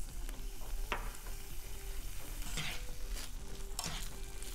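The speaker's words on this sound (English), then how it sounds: "And just let those saute up for a second more." Beet greens sauté in a pan with kosher salt and pepper, a continuous close sizzle broken by several stirring scrapes and clatters, with no talking.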